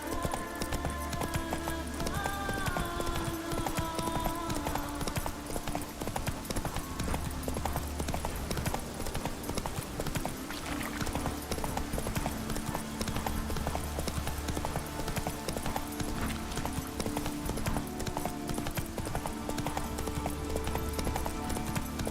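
Roach, a horse in The Witcher 3, trots steadily with a continuous clip-clop of hooves over a low ambient game soundscape, the rhythm even and fairly close throughout.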